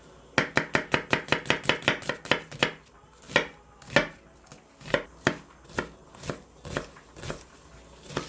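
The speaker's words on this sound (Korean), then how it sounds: "면이 끓는 동안 양파를 또 다져줍니다." Kitchen knife mincing onion on a cutting board, a fast run of sharp chops followed by slower, spaced strikes, close and clear with no talk.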